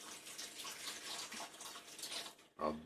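Water is poured into a pot of stew with bell pepper, a soft, continuous trickling splash that ends with a brief, louder gurgle near the end.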